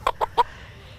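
Three quick, close clucks from a chicken at a camp coop, evenly spaced and alone with no talk, followed by quiet.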